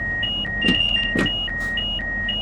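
Repeating electronic warning beeps in a steady pattern over a low engine hum, with a couple of brief clunks in between, from a Class 395 train in a train simulator game.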